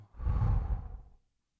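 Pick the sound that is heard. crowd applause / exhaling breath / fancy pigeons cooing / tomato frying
exhaling breath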